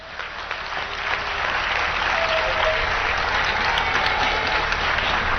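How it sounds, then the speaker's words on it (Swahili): An audience at a formal gathering with President Samia and retired president Kikwete breaks into sustained applause, a dense, even clapping that rises quickly and holds steady for several seconds. "Mpigieni makofi."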